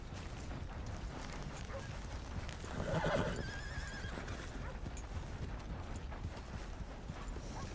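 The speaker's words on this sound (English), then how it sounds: "Here's your horse back" A horse in the Red Dead Redemption 2 video game whinnies once, near and clear, partway through, over a steady bed of clip-clopping hooves and rough outdoor ambience.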